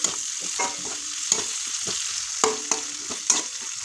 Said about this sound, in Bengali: তো পেঁয়াজটা একটু ভাজা ভাজা হোক